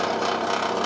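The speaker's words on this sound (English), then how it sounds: "this hole saw is deep enough to go through it in one go" A wobbly hole saw cuts through material in one pass during work on a lightweight car rack, giving a steady, continuous grinding rasp that holds at close range without pause.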